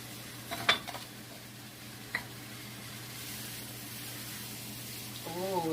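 Pork and squash with serrano pepper and spices stirred in a pan: a couple of quiet utensil clinks and scrapes over a faint, steady sizzle, with a voice briefly at the end.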